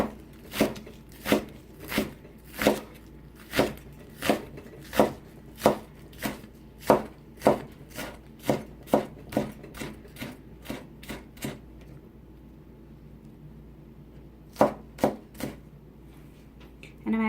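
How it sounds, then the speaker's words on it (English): Knife chopping green onions on a cutting board for a Hmong-style crappie recipe: a steady run of about twenty crisp, evenly spaced chops, a pause, then three more, close and clear. "And then just cut them or chop them into smaller pieces like this."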